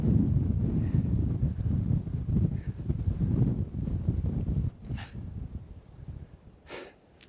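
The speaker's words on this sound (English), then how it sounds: "This is an insane amount of wind." Strong wind over frozen lake ice in winter buffets the microphone with a loud, steady rumbling roar that eases slightly toward the end, with no talk.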